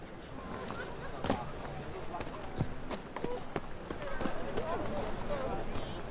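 Roach, a horse in The Witcher video game, clip-clops along with rhythmic hoof strikes, steady and mid-distance, while a voice talks over the movement.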